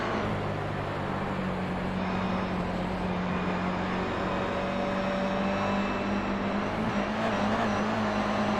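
A GR86 race car engine drones steadily through a lap of Lime Rock in a sim racing game, a continuous loud buzz with shifting pitch as the car works up and down the rev range.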